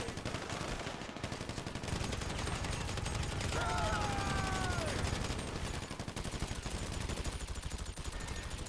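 Gunfire in GTA V Online during the Humane Labs Raid Valkyrie heist setup crackles as continuous dense automatic shots under a steady loud backdrop, with a brief tonal whine partway through.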